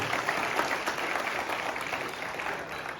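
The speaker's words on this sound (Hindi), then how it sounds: "जोरदार तालियां बनती है बच्चे के लिए" A classroom of students at Sovanagar High School claps for a pupil who gave a correct answer, a steady dense patter of many hands sustained through the whole stretch, with no talk over it.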